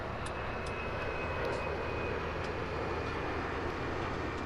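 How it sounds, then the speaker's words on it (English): Airplanes passing overhead in Farming Simulator 17, a loud, continuous engine roar with a steady hiss and hum that stays fairly even, with no voices. "Planes are loud this morning."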